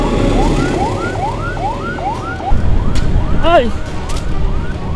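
An ambulance of the Ciamis Regency health office sounds a repeating rising wail siren, loud and close over steady engine and traffic rumble, with a brief yelp change and a short spoken word.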